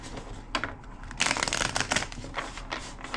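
A deck of tarot cards is shuffled by hand in quick riffling bursts, crisp papery flutters and snaps close to the microphone, with a louder run of shuffling in the middle.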